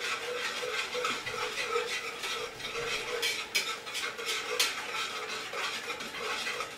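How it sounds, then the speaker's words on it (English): A spoon stirs a thickening homemade chemical-free laundry butter mixture in a pot, giving steady close scraping and clinking with broadband swishes and occasional sharper taps, alone without speech. "we can only sit here and stir it for so long"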